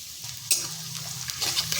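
Finely chopped onion, one medium-sized, goes into a pan over a medium flame and is stirred, giving a soft sizzle with a couple of brief scraping strokes and no voices.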